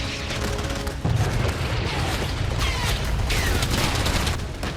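During a British Army exercise in freezing Finland, tanks and artillery fire a series of heavy booms and rumbling blasts, one sharp report near one second followed by sustained loud, rolling gunfire.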